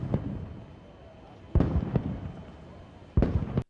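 Ceremonial 21-gun cannon salute at Nur Khan Airbase greeting the UAE president on an official state visit: sharp, booming blasts spaced well apart, each with a short rumbling tail over a low background.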